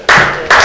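Audience applause at a Justice Party (정의당) political event, two brief bursts of dense clapping, close and loud, with no voices.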